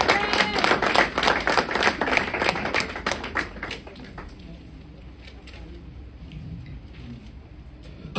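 A church congregation at a marriage seminary claps loudly and steadily, many hands in quick rhythm for about four seconds before the applause fades into quieter murmur and a soft speaking voice.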